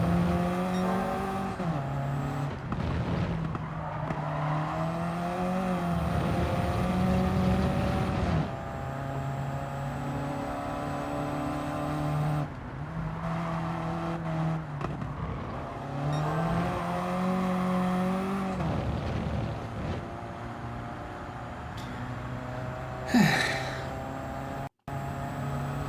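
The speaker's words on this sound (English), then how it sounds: "Pops in the banks from the exhaust as you lift off" A racing car engine in the video game Gran Turismo 7 drones steadily, its pitch climbing through gear changes and dropping on lift-off, with sharp exhaust pops and a brief crackle near the end.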